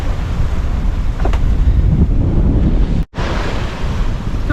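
A sailboat surfs down waves in rough seas, with a constant close roar of surf and wind buffeting the microphone. A brief dropout interrupts it about two-thirds through.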